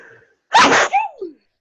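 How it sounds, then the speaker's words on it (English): A single sharp, explosive sneeze bursts out close up, followed by a brief trailing vocal sound. "a cute sneeze"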